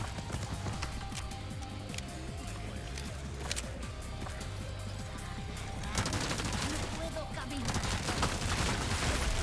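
Gunshots in Resident Evil 4 Remake, Separate Ways mode, in a dark hallway: a dense stream of sharp cracks and thuds over a loud, busy game mix that grows heavier toward the end.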